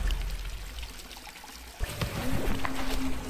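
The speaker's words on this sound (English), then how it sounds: "Cave behind a waterfall." Waterfall in front of a cave in the game Kholat, a steady close rush of pouring water with a brief thump partway through and no talk.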